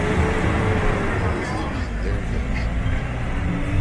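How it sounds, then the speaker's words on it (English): A tour bus in Grenada accelerates hard, a loud, steady engine roar with road rumble filling the whole stretch from close inside the vehicle, with faint background voices. "you're going to hear our bus driver slam on the accelerator."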